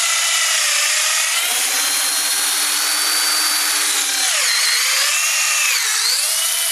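A power drill bores a tap hole into a maple tree trunk, spraying sawdust as it cuts. A steady, loud whine of the bit grinding through wood runs continuously for several seconds, shifting slightly in pitch as the drill pushes deeper.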